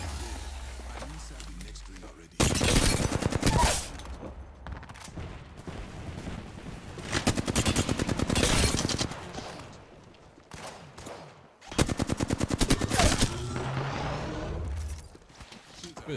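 Rapid bursts of gunfire from the video game Apex Legends, loud sustained volleys that stop and start in several long stretches, with a voice talking between and over the shots.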